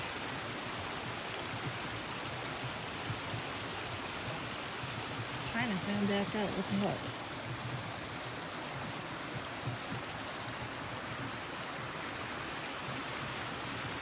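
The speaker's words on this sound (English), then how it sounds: "That water's just flowing so well." Water flowing in Swamp Creek, a mountain stream, gives a steady broadband rushing hiss throughout, with a person speaking briefly over it midway.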